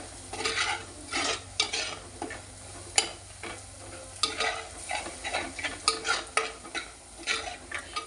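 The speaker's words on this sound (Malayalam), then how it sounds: "അപ്പം നമ്മുടെ സവോള നല്ല ഗോൾഡൻ ബ്രൗൺ ആയി വരുന്നുണ്ട്" Onions sizzle in hot oil for a Kottayam-style fish curry while a utensil stirs them in a brisk, uneven rhythm of scrapes and taps, close and fairly loud throughout.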